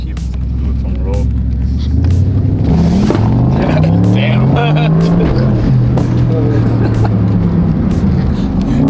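A Lamborghini engine revs hard on a road launch, its pitch climbing steadily as the car pulls away, loud and close, with people talking over it.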